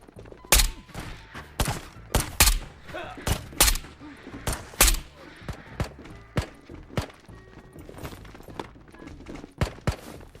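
Video game gunfire in a looting shooter with an AS-VAL rifle, a run of sharp shots and short bursts at irregular intervals, some loud and near, others softer.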